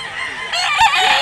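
A rooster at a chicken market in Mantalungon, Barili, Cebu gives one loud, close, raspy crow that rises over low background noise.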